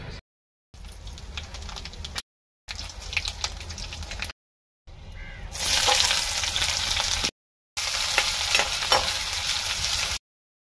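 Oil sizzles and crackles steadily in a pan before onion goes in, a bright close hiss heard in several bursts split by brief silent cuts, with no talking.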